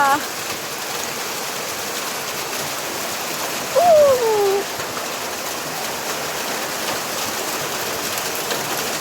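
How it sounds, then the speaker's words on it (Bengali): A dense, steady patter of falling hailstones and rain hammers surfaces nearby, with a brief louder burst partway through. "শিলাবৃষ্টি হচ্ছে, বড় টুকরো পড়ছে ছোটো ছোটো।"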